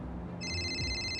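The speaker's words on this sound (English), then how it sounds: "The phone rang." Telephone ringing with a steady electronic tone that starts partway through, over a low background hum, moderately loud and alone without talk.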